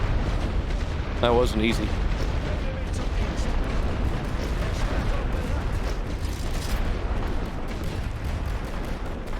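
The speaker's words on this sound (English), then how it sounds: "Let's get a machine gun tank up here." Machine gun tank firing in The Great War: Western Front, a dense rumbling barrage of booms and gunfire filling the whole stretch, loud and continuous, with a short spoken remark early on.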